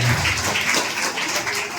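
Audience clapping at a temple gathering in Karnataka, where a chariot (teru) for the Sri Rabinala temple is being discussed; steady dense applause from a crowd fills the whole moment at moderate loudness, with no speech over it.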